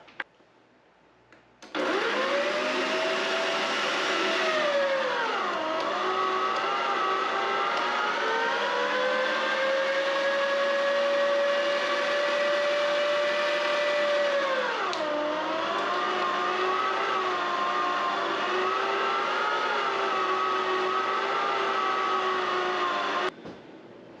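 A meat grinder runs steadily on beef fat, a loud continuous motor whine that dips in pitch twice as the load increases, starting and stopping abruptly.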